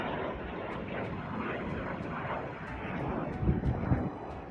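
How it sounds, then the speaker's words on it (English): Storm Shadow cruise missiles flying over Crimea, filmed from the ground by residents, making a steady, distant jet-like roar that swells briefly near the end, with faint rhythmic ticks above it. "Residents of Crimea filmed the flight of the Storm Shadow cruise missiles."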